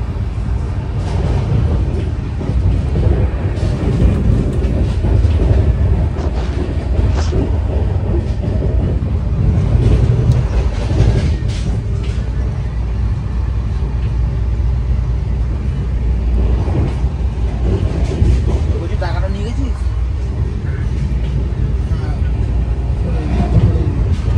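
Steady low rumble and rattle of the Sealdah to Jammu Tawi Humsafar Express running at speed, heard from inside the coach, with continuous broadband track noise and occasional background voices.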